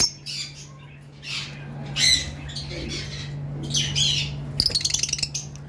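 Lovebirds kept in a breeding farm give sharp, repeated squawks and chirps in short bursts close by, over a steady low hum, with a quick rattling flutter near the end.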